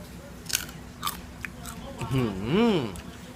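Crunchy bites into crispy deep-fried tongue sole fish, a few sharp crackling crunches close up followed by chewing, with a voice murmuring under the eating.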